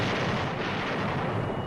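A 1944 anti-aircraft flak barrage rumbles as a dense, continuous roll of heavy booming bursts, loud and low, with no pauses or voices.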